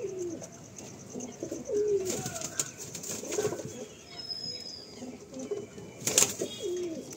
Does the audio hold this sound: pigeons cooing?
yes